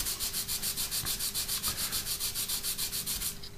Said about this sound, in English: Then if you get your sanding sponges, perhaps you've actually got your sponges, take quite a coarse one to start with